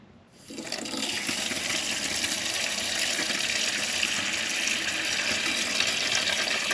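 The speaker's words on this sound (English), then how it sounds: "let's get the hot water on" Hot water gushes from a newly installed tap in a DIY bathroom at an off-grid home in Portugal. It starts abruptly, then runs as a loud, steady, close rushing stream with no voices.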